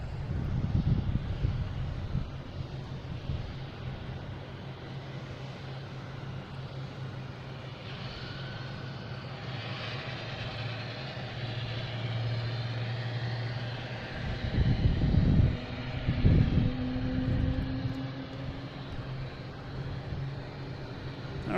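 A UPS cargo plane lands on runway 27 at Boston Logan International Airport, its engines a steady distant roar that swells with louder rumbling near the end.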